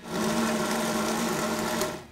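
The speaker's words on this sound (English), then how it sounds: "I'm gonna throw those in the blender" A kitchen blender grinds coarse coconut flakes into a rough chop, a steady continuous motor whir running loud and close for the full two seconds with no talk.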